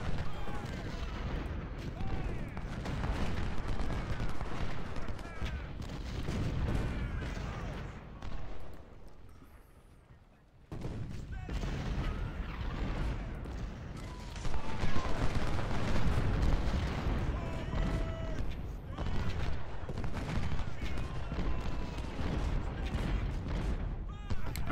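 Artillery batteries boom in the Civil War strategy game Ultimate General: Civil War, a continuous rumbling barrage of cannon fire and musketry with a brief lull midway before the firing swells back, steady and fairly distant.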